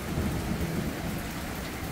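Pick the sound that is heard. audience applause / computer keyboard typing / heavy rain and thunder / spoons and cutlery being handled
heavy rain and thunder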